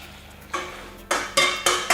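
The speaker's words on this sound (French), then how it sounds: "Puis je continue à faire chauffer sans cesser de remuer pour pas que ça accroche." A spoon scrapes and clinks against a saucepan as pastry cream for a strawberry tart is stirred while heating, with four bright scraping strokes in quick succession.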